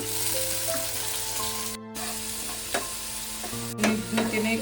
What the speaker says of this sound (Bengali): তেল দিয়ে আমি প্রথমে আমার বাটা মশলাটা দিয়ে দিলাম।